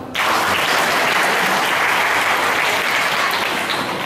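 Sustained audience applause at a talk show discussion, starting abruptly and holding loud and steady without speech.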